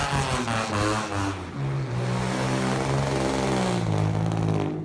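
A loud, raspy straight-piped Nissan 350Z exhaust drones and revs with a harsh, buzzing tone, rising and settling in pitch through the clip.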